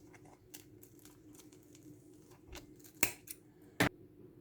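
Scissors snip through nylon thread while making tassel earrings, two sharp, close cuts standing out from faint handling noise and quiet rustling.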